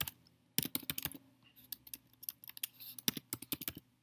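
Close, quiet typing on a computer keyboard, with quick irregular bursts of key clicks separated by brief pauses.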